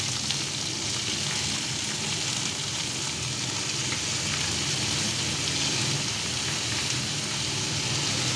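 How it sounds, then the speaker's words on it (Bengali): Onion frying with panch phoron (five-spice) in a pan gives off a loud, steady, hissing sizzle that runs unbroken throughout, with no voices. "5 ফোড়ন দিয়ে একটু এই পেঁয়াজটা নাড়াচাড়া করছি।"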